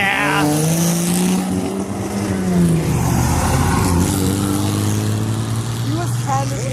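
A car revs hard with its tires spinning at a summer car meet, a loud, sustained engine drone rising and falling in pitch close by while people talk over it.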